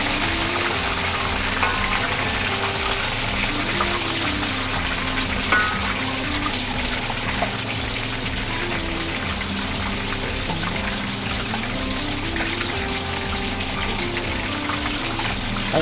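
Chicken wings sizzle and bubble in a hot pan as their excess water cooks off, giving a loud, continuous frying hiss with a steady low rumble underneath.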